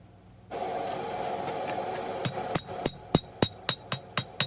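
A hammer strikes hot steel on an anvil while drawing out the edge of a small seax blade, a roaring forge in the background, then about ten sharp, ringing blows in a steady rhythm, close and loud.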